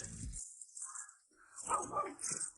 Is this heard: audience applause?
no